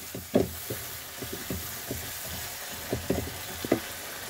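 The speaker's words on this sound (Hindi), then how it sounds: "मसाला हमारा बहुत अच्छे से फ्राई हो गया है" Masala spiced with cumin powder and garam masala sizzles in a hot pan under a constant hiss, broken by a series of sharp spoon-scraping stirs, some in quick pairs.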